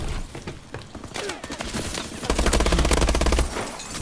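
Gunfire in Call of Duty Advanced Warfare multiplayer, a free-for-all match: scattered shots at first, then a sustained rapid automatic burst in the second half, loud and close, with no talk.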